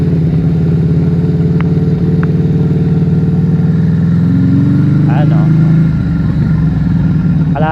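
An FKM Coolser 500 motorcycle rumbles steadily while being ridden, a loud close engine drone that shifts pitch partway through.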